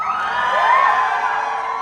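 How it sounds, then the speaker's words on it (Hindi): Crowd of fans at a live song launch event in Lucknow cheering, whooping and shouting together, a loud, steady roar with no speech over it. "अच्छा ये गाना जिसको जिसको पसंद आया वो थोड़ा शोर मचाएंगे"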